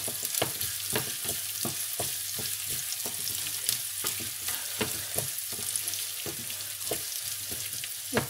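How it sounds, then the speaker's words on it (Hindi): Onions sauté in a pan for chicken pulao with a steady sizzle and frying hiss, punctuated by regular scraping stir strokes, close and continuous with no talk. "इसको सोते करेंगे, तकरीबन 1 मिनट करेंगे, उसके बाद फिर डाल लेंगे।"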